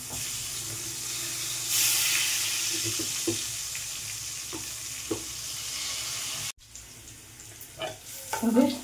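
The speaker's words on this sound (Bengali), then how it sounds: "আগে আলুটা ভেজে নেব, তারপরে প্রেসারে দিয়ে দেবো।" Potatoes frying in mustard oil in a pan, a continuous close sizzle with occasional clicks and stirring knocks, briefly cut off and resuming with louder splashy bursts near the end.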